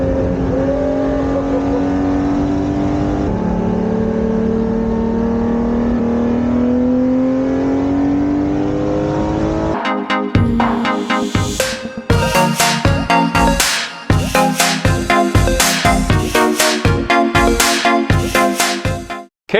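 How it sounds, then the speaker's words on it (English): A Ferrari 250 GTO with its original V12 engine at speed, first a loud steady high drone, then a burst of sharp revving surges and gear changes, close and powerful, with no talking. "That is the almighty Ferrari 250 GTO, one of the most coveted cars in the world for good reason."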